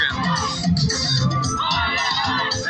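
Children playing ball in the street scream and shout nonstop, with overlapping high-pitched cries and whoops that stay loud and close throughout.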